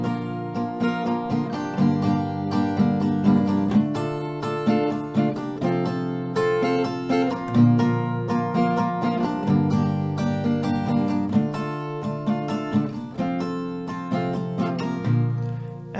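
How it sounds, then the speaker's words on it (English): A steady, full-sounding chord progression strummed on an acoustic guitar, one strum pattern per chord, repeating evenly without any voice. "so you will play 1 strumming round per chord"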